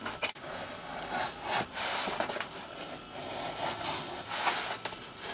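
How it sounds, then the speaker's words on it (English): Excess carpet and leather are trimmed off a sewn seat back at a workbench, giving close, rough rasping cutting strokes in irregular bursts, moderately quiet with no voices. "Now it's sewn, it's just a case of cutting off this"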